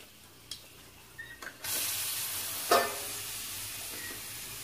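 Mustard seeds, urad dal, dried red chillies and curry leaves hit hot oil with a sudden loud sizzle that holds steady, with a crackling pop midway and small clinks beforehand.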